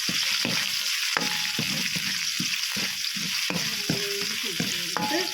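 Liver fries in a pan as ginger is added, a constant loud sizzle with repeated scraping and clinking of a spoon stirring against the pan.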